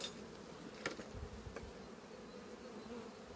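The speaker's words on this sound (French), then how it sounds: "elle est remplie d'abeilles, ça va, toute rempli d'abeilles" A dense, steady buzzing of many honeybees inside a Warré hive fills the space close up, with a few soft knocks and thumps underneath.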